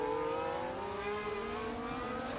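F1 cars in a racing video game at the Portugal circuit buzz past with a steady, high engine whine and layered harmonics. Moderately loud and without talk.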